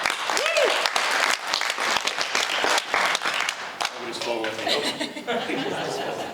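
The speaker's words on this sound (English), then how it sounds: "Please give a big round of applause and welcome our next and final panel to the stage" An audience at a cybersecurity conference claps loudly to welcome a panel to the stage, a dense burst of applause that fades as a voice begins talking and light laughter follows.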